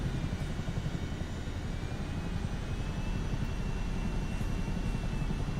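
Helicopter engine in Microsoft Flight Simulator 2024 held at full collective, a steady, loud, dense rotor-and-turbine roar with low thumping, constant throughout and without talk.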